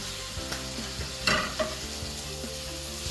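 Finely chopped bacon frying in a skillet, a soft continuous sizzle with scattered pops and one louder burst of spattering midway, heard close but fairly quiet with no talking.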